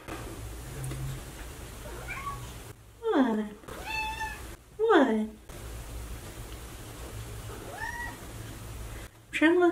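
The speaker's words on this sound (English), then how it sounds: "You haven't done a lot of meowing today." A pet cat meows several times in a quiet room, short rising and falling cries in separate bursts, with a person speaking briefly between them and a low steady hum underneath.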